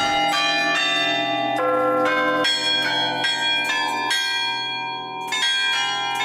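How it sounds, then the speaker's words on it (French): A 31-bell carillon rings out a melody, struck notes one after another with long ringing overtones, loud and close. "j'ai découvert ce carillon"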